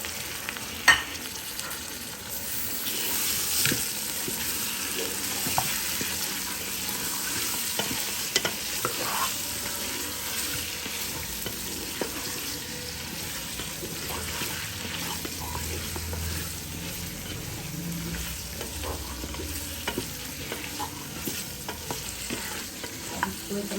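Mutton for a turnip curry fries in a pan, a dense sizzle running throughout with frequent scraping and clinking stirs at an uneven rhythm, close by, and no talking.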